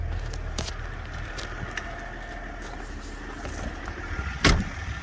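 A 2003 Range Rover L322 with the TD6 diesel engine idling steadily with a low rumble, a brief clunk near the end.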